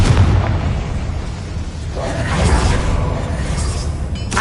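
Confringo blasting spell exploding in the Hogwarts Legacy video game, a loud, dense blast with rumbling debris that keeps roaring throughout, with a sharper crackle near the end.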